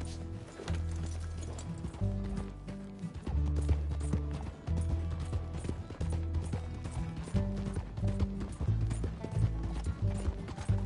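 Horse hooves clip-clopping in the video game Red Dead Redemption 2, a busy, continuous trotting rhythm of close hoof strikes over a low rumble of wheels and harness, with a brief whinny.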